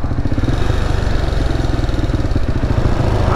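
A motorcycle engine idles close by with a loud, rapid, even chugging pulse that stays steady and alone throughout.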